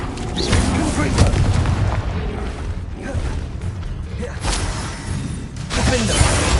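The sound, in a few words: Confringo blasting spell explosion in a Harry Potter video game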